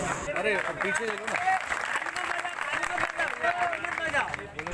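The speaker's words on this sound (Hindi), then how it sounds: "विधायक को अपने बीच में बैठा पाकर किसानों ने तालियां भी बजाई।" Farmers at a protest gathering clap for their MLA, scattered uneven applause mixed with a busy hubbub of voices and talk close by.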